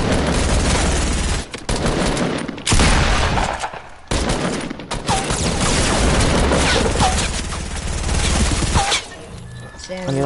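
Dense bursts of automatic gunfire from a P90 and a minigun in a video game, rapid and loud, pausing briefly between volleys while a voice talks over the shooting.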